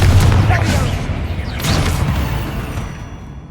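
A Confringo blasting-curse explosion in the Hogwarts Legacy video game: a heavy boom at the start, then a second burst with crackling rumble midway, tailing off gradually.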